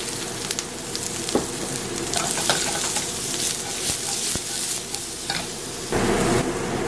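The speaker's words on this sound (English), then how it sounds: "Then I'm going to brown these onions." Onions browning in a teaspoon of oil in a pan for a vegan mushroom stroganoff give a steady, close sizzle and fry, with stirring scrapes and clicks through it. The sizzle swells louder near the end.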